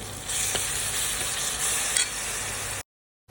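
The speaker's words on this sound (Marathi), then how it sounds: "आता थोडीशी अद्रक लसूण पेस्ट टाकून घेऊया आपण मिक्स करून घेऊया" Ginger garlic paste sizzles steadily in a hot pan for chicken chingari gravy while a utensil stirs through it, with a couple of brief scraping accents before the sound cuts out.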